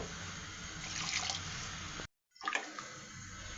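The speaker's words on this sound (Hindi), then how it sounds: "1 गिलास पानी में डालूंगी इसमें" Water pours steadily from a glass into a cooking pot of rice and chickpeas for chole pulao, a continuous splashing flow that stops briefly, then resumes for a shorter pour.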